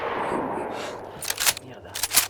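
Gunfire from the video game DayZ: a short burst of sharp shots close together, the loudest near the end, coming after a stretch of softer game background noise.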